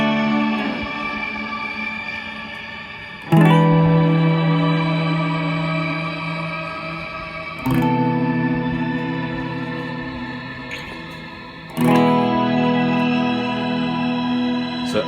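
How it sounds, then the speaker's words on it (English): Sustained instrument notes played through a Meris Mercury7 reverb pedal with sustain at maximum, three struck chords whose long reverb tails wash on and only slowly decay before the next attack, no voices. "Let's take the sustain all the way up and let's listen to that."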